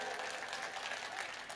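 At a Hindi comic poetry gathering, the audience gives a brief burst of clapping, a moderately loud crowd patter lasting only a moment.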